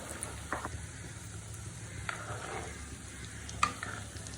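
Potato balls frying in hot oil in a home kitchen pan, with a steady soft sizzle, occasional stirring scrapes and a sharp clink near the end, close and fairly quiet with no talk.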